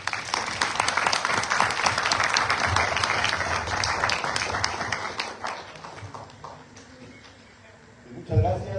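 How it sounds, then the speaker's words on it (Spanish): An audience at a supply-chain technology conference gives a dense, sustained round of applause for an engineer speaker, fading out near the end before a voice briefly starts talking. "Brindemos un fuerte aplauso al ingeniero"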